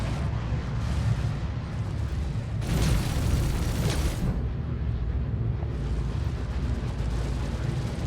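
Heavy fighter cannons on a Vanguard Warden in Star Citizen fire without pause, making a continuous rumbling, booming barrage. A brighter, louder burst comes midway, steady and dense throughout, with no talking.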